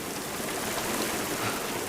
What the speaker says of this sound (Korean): 갑자기 소나기가 내리는 어느 날, 공중전화 박스로 비를 피하는 두 사람.